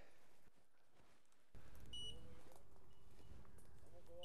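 A hunting dog's beeper collar sounds a thin, repeated beep at a distance during woodcock hunting in Maine woods, following a brief rustle and faint background.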